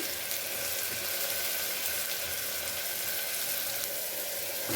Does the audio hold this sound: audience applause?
no